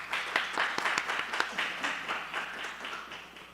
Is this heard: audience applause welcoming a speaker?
yes